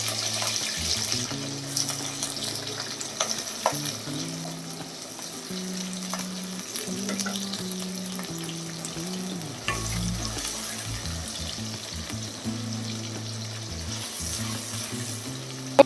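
Onion, green chili, cinnamon, cloves and other whole spices fry in oil in a pan, a soft steady sizzle with occasional stirring scrapes and light clinks, fairly quiet and without talk.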